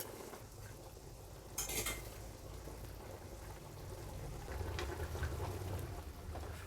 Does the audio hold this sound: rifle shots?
no